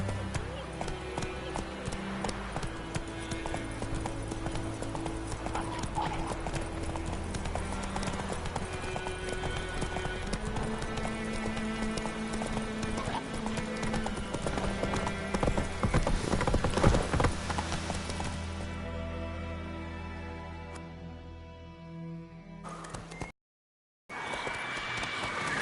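Roach the horse gallops in The Witcher 3, steady rapid hoofbeats clip-clopping close and loud, joined by a brief whinny and game music, then fading near the end.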